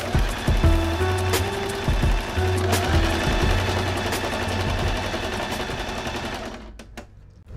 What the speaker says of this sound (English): I'm going to be pinning both sides together and sewing them